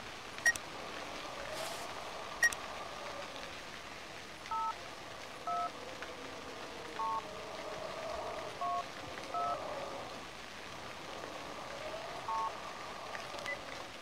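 Phone keypad tones sound in the horror game Cry of Fear as a number is dialed, a series of short separate beeps spaced about a second apart, quiet over a soft rain-like background hiss.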